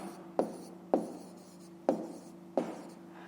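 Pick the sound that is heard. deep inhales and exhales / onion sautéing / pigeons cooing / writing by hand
writing by hand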